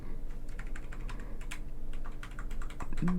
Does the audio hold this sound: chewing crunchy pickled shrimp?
no